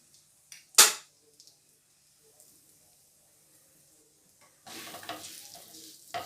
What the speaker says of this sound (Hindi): इसे 4 मिनट अब इसे लो फ्लेम पे फ्राई करना है